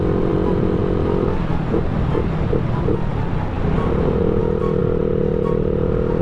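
A motorcycle fitted with a 53mm racing kit and CNC head rides along a dirt shortcut, its engine a loud constant drone with rattling clatter and a few uneven bursts, heard close up.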